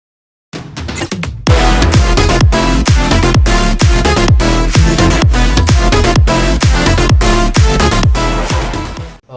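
A loud, bouncy electronic track kicks in after a short intro, driving along with a steady pounding beat and bright synths throughout.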